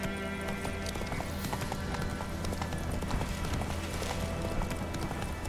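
Hooves of the horse Roach clip-clop in a steady gallop in The Witcher 3, constant and close over a game soundtrack and ambient bed.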